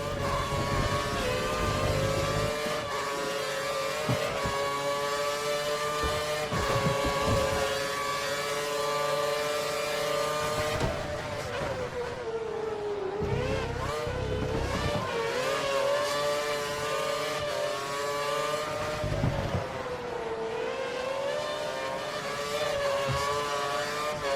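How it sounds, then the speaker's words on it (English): Formula 1 cars in the F1 2013 racing game at the Nürburgring, their high-pitched engines screaming continuously and rising and falling in pitch as they rev through the gears. "We think the car behind is running on full revs."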